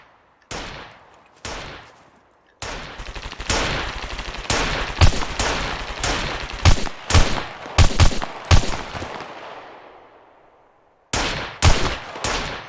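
Pistol gunfire in the survival video game Scum, single sharp shots and quick bursts in irregular clusters, loud and close, with short silences between volleys.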